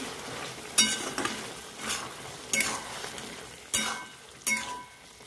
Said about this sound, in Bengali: পোস্ত বাটাটা দিয়ে দিয়েছি এবার নেড়ে চেড়ে নেব